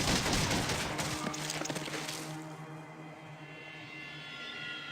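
Shotgun burst fire in the game Fallout 1 lets off a dense, loud rattle of overlapping blasts for about two seconds, then trails off into a fading rumble and low hum.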